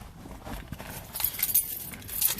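Car keys jangle and clink in a hand inside a car, several quick metallic rattles growing louder toward the end.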